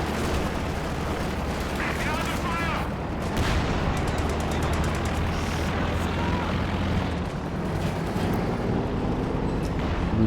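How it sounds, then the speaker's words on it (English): An artillery barrage in a wartime strategy game rumbles continuously, with dense overlapping booms and crackling shellfire at a steady loud level, under a commentator's voice. "A major rapid barrage here"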